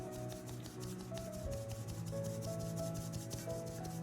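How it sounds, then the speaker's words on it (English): Flour for a blueberry cake being sifted through a sieve makes a soft, continuous close rubbing and rasping, steady in level with no talk over it. "by sifting it, you're guaranteed that the flour will be lump-free"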